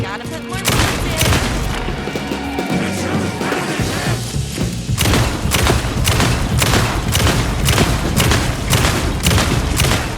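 Gunshots in the Alan Wake II Night Springs DLC fire in a steady, rapid series of loud, booming blasts with crashing impacts, continuing throughout at close range.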